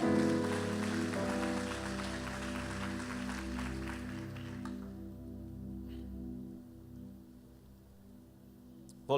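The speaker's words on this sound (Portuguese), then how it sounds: "Aplauda a palavra de Deus" A church congregation applauds during a Portuguese-language sermon, a broad wash of clapping over sustained keyboard chords that fades after a few seconds while the music continues alone.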